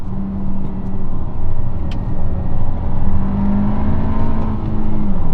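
A 1.5-liter turbocharged 2022 Honda Civic Hatch engine hums steadily and close, its pitch holding and rising slightly in a sustained rev with no voices over it.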